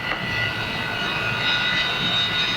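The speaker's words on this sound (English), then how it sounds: "Stand by to start the A4s and the F4s." Jet engines of A-4 and F-4 aircraft on an aircraft carrier flight deck: a loud, steady, close roar with a high whine running through it and no talk.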